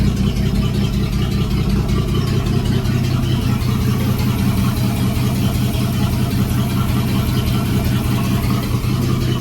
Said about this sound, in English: It's running great with that new carb.